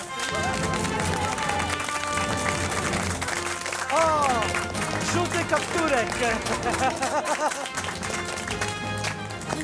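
A studio audience on a Polish cooking competition set claps and cheers loudly and continuously, with excited voices and shouting mixed into the sustained applause.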